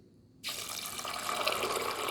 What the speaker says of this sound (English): Then I'm going to add some water to it.